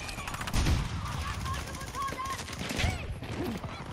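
Continuous rapid automatic gunfire in the Battlefield 2042 video game, loud and dense, with a chaotic battle mix behind it and no pause for the whole stretch.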